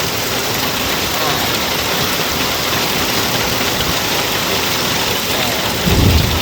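Steady heavy rain hammers down with a dense, hissing roar, mixed with hail pelting the surface during a summer storm in Sisaket, Thailand, loud and continuous throughout.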